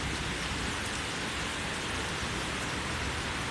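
Steady rain pours down in a stormy setting, a dense, even hiss that holds at the same level throughout with no talking over it.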